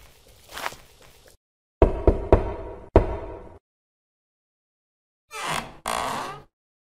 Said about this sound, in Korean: 강 부자 집의 대문을 두드렸습니다